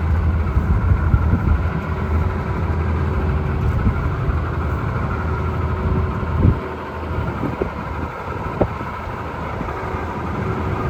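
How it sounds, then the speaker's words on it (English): Massey Ferguson 625 tractor engine runs at a steady idle, a low, continuous diesel chug with a few faint knocks and clanks in the background, no voices. "Engine sounds nice."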